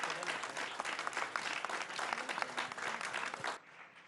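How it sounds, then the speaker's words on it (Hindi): Loud applause from a studio audience welcoming Dr. Mohan Yadav, the newly appointed Chief Minister of Madhya Pradesh, at a televised interview event. The clapping is dense and steady, then stops abruptly near the end. "जोरदार तालियों के साथ स्वागत"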